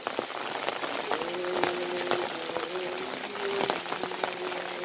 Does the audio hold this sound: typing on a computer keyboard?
no